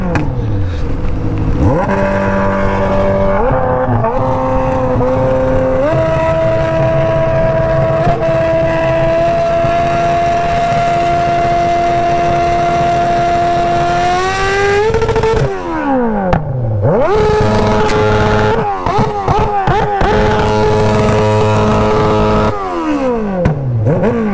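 Honda Hornet motorcycle engine, rumbling from its fuel pump, revs hard in repeated swells, its pitch climbing and falling back; loud, close and continuous, with no voices over it.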